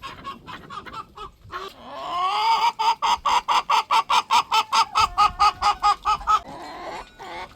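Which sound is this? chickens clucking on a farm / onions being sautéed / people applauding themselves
chickens clucking on a farm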